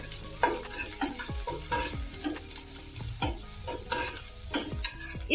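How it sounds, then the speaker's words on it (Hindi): Chopped onion and finely chopped green chillies sizzle steadily in a hot pan while a spoon stirs and scrapes through them in repeated quick strokes, close and fairly loud, with no talking. "अब हम इसे 1 से 2 बार चला लेंगे।"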